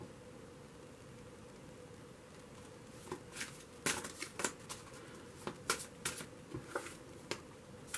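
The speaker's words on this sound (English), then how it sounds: "when I was shuffling the cards" Quiet rustling and soft irregular snaps of tarot cards being shuffled, faint and close, over a low steady hiss.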